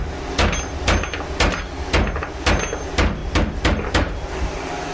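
A hammer flattens a piece of copper with about nine sharp, ringing blows in a fairly even rhythm, loud and close, with no talking.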